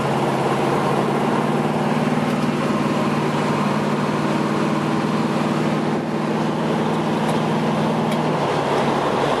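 A 1980 Chevrolet Camaro Z28 V8 runs steadily with a deep, even drone and a dense, rushing exhaust layer, loud and continuous without clear revving peaks, with no voices.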